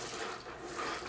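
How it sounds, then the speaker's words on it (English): Water wrung from an O Cedar spin mop, a steady splashing, pouring stream close by that runs without break for about a second, with no voices. "see how much water comes out as I do this"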